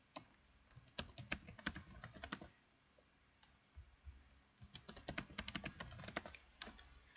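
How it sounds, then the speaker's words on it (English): Typing on a computer keyboard during an Ubuntu 20.04 setup in VMware: two quick bursts of rapid, close key clicks separated by a brief pause, crisp and fairly quiet. "So here you just type in all your personal information,"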